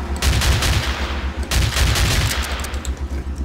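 Rapid automatic gunfire in the Battlefield 2 video game, a dense continuous fusillade of loud close shots lasting the whole stretch, with no talking.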